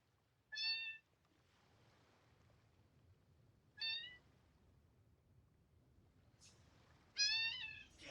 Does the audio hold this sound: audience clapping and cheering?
no